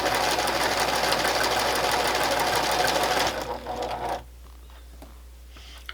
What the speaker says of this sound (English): sitting at the sewing machine trying to put a hem on them